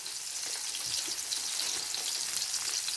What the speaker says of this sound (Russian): Сережа жарит рыбку